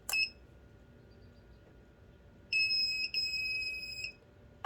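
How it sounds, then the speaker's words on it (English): An egg incubator's electronic control panel gives a short high beep, then a longer sustained beep a couple of seconds later as it resets, clear against a quiet background hum. "you're going to hold those down until it beeps"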